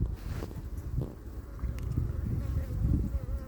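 Honeybees buzz in a dense, continuous drone at an open hive, close to the microphone, with some wind noise mixed in.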